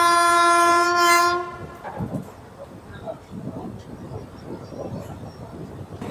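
A passenger train on the Erode to Mettur Dam line sounds a loud sustained horn, then the car rumbles and clatters steadily along the rails, heard from on board.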